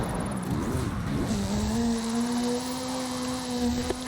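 Ken Block's Hooligan Gymkhana 10 Ford Focus RS RX, a 2-litre turbocharged all-wheel-drive rally car in Forza Horizon 5, holding a steady droning engine note that settles and sustains after a brief rise, loud and continuous with no talk.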